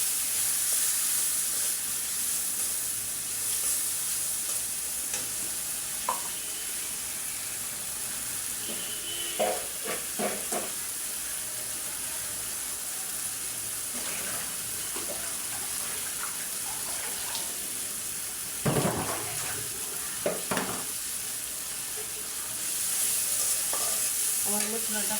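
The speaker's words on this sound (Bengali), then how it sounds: "এখন আমি একটু পানি দিয়ে মশলাটা ভালো করে কষাই।" Spice paste of garlic and ginger, loosened with a little water, sizzles in a pan while it is stirred for a beef tripe curry. A steady, fairly quiet frying hiss runs throughout, broken by scattered scraping and stirring clatter, with no voices.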